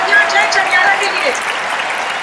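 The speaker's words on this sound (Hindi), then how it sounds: "एक बार फिर जोरदार तालियां जय चंडियाला के लिए।" An audience applauds comedian Jai Chhaniyara at a stand-up comedy show at Prayag Sangeet Samiti. The clapping is dense and fairly loud, strongest at the start and easing slightly toward the end.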